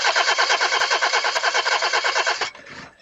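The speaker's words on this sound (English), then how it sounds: "Car won't start?" Car engine cranking rapidly in a steady rhythmic chug for about two and a half seconds without catching, then cutting off abruptly, loud and close.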